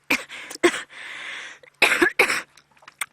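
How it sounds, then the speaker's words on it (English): Harsh hacking coughs in several bursts, close to the microphone, from a person on an evening safari drive in the Sabi Sand reserve, with short quiet gaps between fits. "my hacking cough"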